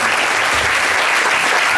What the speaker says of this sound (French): sous les applaudissements de tous les gens qui sont là.